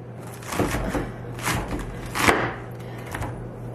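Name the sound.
coring cabbage with a knife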